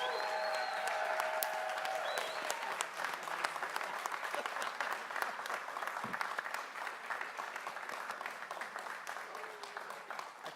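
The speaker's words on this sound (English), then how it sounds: "Let's give him a big round of applause." A large audience at a CIAA tournament announcement gives a long round of applause, the dense clapping starting strong and then thinning a little while holding steady for about ten seconds, with faint bright tones in the background early on.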